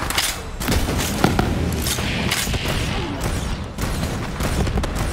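Pistol gunfire in Borderlands during a Mayhem 10 fight in Gehenna: a dense, loud barrage of rapid shots and impacts cracking continuously with almost no pause.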